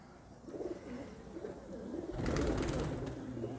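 Kalmuhe pigeons, a Tonk breed, coo in soft repeated low murmurs that swell louder toward the end, close by with steady background noise.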